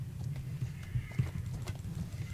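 Horses in the Atlas video game: low, irregular hoof clip-clops thud along under faint snorts and a brief thin whinny, fairly quiet and continuous.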